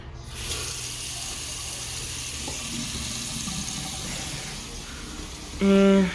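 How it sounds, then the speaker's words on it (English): Water runs steadily from a tap into a freshly unclogged, repaired sink, a continuous close splashing flow that holds throughout and swells briefly louder near the end. "So now we have a running sink here."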